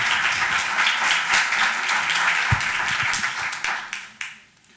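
An audience applauds steadily for a law professor at a Constitution Day lecture, dense clapping that holds for several seconds and then tapers off as it ends.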